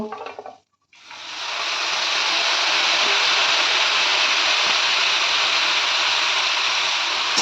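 Note greens tossed with potato, ground cumin and spices in a pan while a hilsa fish head dish is cooked, giving a loud steady close sizzle that starts after a brief pause and runs unbroken.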